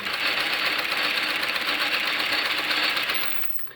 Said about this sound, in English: This machine's top speed is about 800 stitches a minute,